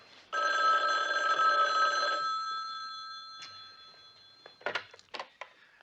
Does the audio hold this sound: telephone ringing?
yes